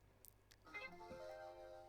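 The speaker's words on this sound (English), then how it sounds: "that's my phone." A mobile phone ringtone goes off during a podcast conversation, a short melodic electronic chime with sustained tones, moderately loud and heard alone with no talk over it.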